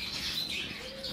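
Small pet birds chirp in a soft, continuous twittering from nearby cages, quiet and without voices.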